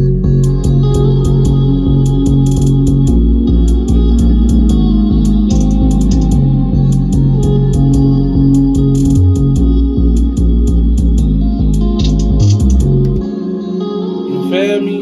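Quick, bright hi-hat ticks run in a steady pattern over a loud, bass-heavy Jersey club beat built in Mixcraft 9, repeating across the full loop before the low end drops out near the end.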